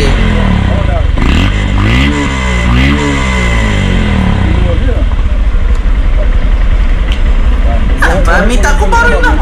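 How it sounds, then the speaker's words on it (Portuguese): Motorcycle exhaust noise, a loud nearby engine revving and idling with rising and falling pitch sweeps, while people talk over it. "Só por causa do barulho do escape."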